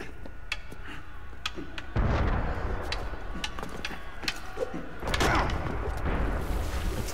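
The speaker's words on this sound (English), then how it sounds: "What's up with the cannon fire?" Cannon fire in the Assassin's Creed Unity video game, deep booming thuds landing at about two and five seconds over clicking, ratcheting mechanical game sounds, with brief speech mixed in.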